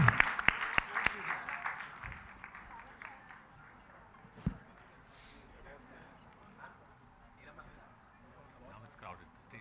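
Applause at a Princess India beauty contest honouring lifetime achievement awardees, a burst of clapping up close at the start that thins and fades quickly into a murmuring hall.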